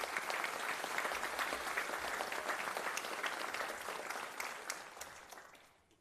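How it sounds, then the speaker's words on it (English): Audience applauding steadily at a city council meeting, a dense sustained patter of many hands that holds for several seconds and then fades toward the end. "Just please join me in giving them a round of applause."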